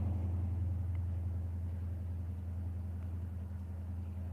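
A gray, beat-up, rusting car idles with a low, steady engine rumble up the road, a constant deep drone holding at even loudness throughout with no voices over it.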